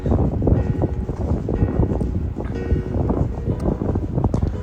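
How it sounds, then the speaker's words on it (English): Steady, loud early-morning wind in the Grand Canyon buffeting the microphone with rough low rumbling gusts, continuous throughout with slight swells and rustling. "Still pretty windy this morning"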